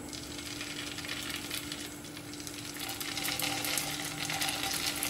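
Idli pieces fry in oil in a nonstick pan, giving a steady, close sizzle with fine crackle throughout and faint scraping touches, no voices.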